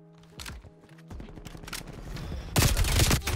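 Bursts of gunfire in Call of Duty Black Ops Cold War multiplayer, scattered shots building into a louder, dense volley near the end, with music-like tones underneath.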